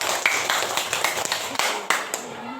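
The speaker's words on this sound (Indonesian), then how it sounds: "Tepuk tangan tuh dah." Students in a classroom clap their hands in short bursts of sharp, uneven claps, with a teacher's voice and classroom chatter mixed in.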